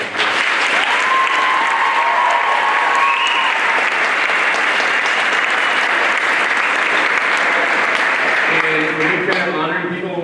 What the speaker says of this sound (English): so I'd love another round of applause for those two.